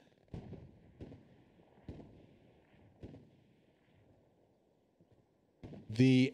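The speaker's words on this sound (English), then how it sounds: "This is the Axis arty, ladies and gentlemen." Axis artillery shells land in a competitive Hell Let Loose match, a series of sharp distant booms spaced about a second apart, followed by a louder burst at the end, with a commentator talking over it.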